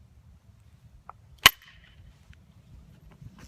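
A copper tool knaps an agate basin and a flake snaps off with one sharp, sudden crack, preceded by a faint tick and followed by a brief scraping rustle over quiet low background noise.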